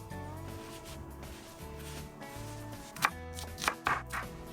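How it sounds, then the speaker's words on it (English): A knife mincing onion on a cutting board for a pork kebab marinade at a campfire cooking setup, quick irregular chopping taps with several sharper cuts near the end, over a low steady hum of background music. "Now I'm just gonna go ahead and mince up my onion."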